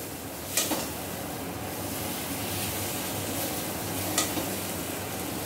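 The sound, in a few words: pointed gourd stirred and fried in spice paste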